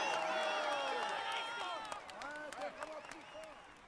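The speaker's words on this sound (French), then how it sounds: "Allez, on l'applaudit encore." Crowd applause and cheering at the Tour de France 2017 stage finish at La Planche des Belles Filles, loud and dense at first and then thinning into scattered clapping and whoops, with a voice talking over it.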